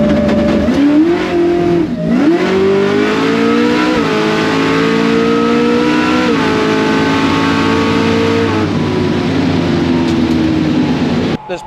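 900-horsepower Camaro drag car launching on a test-and-tune pass, engine roaring loud and steady as it climbs through several gear changes, nearly uninterrupted by other sound.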